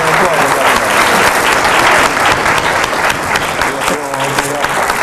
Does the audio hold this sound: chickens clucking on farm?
no